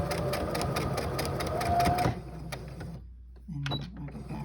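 A sewing machine stitches a cotton face mask with a liner in a fast, close, steady whir for about two seconds, then stops, leaving faint handling noises.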